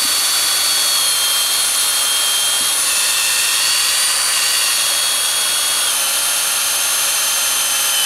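A power drill grinds steadily and loudly for several seconds, boring continuously into a maple tree trunk without pause, close by and with no voices.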